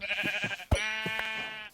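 A Minecraft sheep bleats in a drawn-out, wavering cry, preceded by a few soft thuds and footsteps; close and clear.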